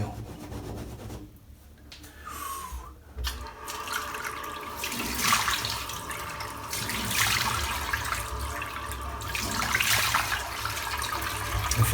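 Tap water splashes as shaving soap lather is washed off a face, a close running-water hiss with irregular rubbing and splashing surges that swell and fade over time.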